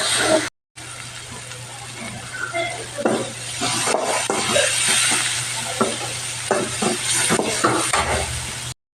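Onion with garlic and ginger paste frying in oil in a wok, a steady close sizzle with scraping stirs over it, running alone after a brief cut near the start.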